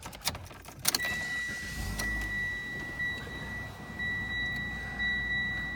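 A 2016 Mitsubishi Lancer SE sedan starting up: keys jangle and clatter, then the engine catches and settles into a low, steady idle while two thin warning tones ring on above it.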